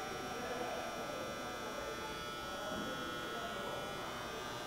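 A Sharp 3-axis CNC vertical mill with ball screws and servo motors drives its Y axis from a pulse generator, giving a steady electric whine and hum that holds evenly throughout.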